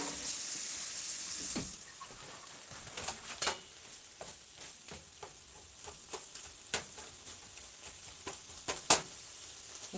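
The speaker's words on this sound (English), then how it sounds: "I gotta rinse this because there's a little bit of raw meat on there." A kitchen utensil is rinsed under a running tap for a loud opening burst of water, then the flow stops and scattered clinks, taps and drips follow; close, fairly quiet, no voices.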